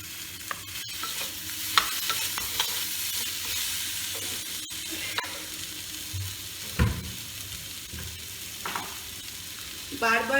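Potatoes and onions fry in a pan with a steady, close sizzle, overlaid by frequent scraping stirs and a few sharper knocks of the utensil; no one speaks.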